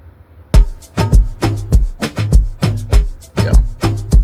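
Two Afrobeat drum samples layered in Bandlab hit together in a steady, punchy groove, with booming low kicks and crisp percussive hits repeating about every half second, loud and close with no voices.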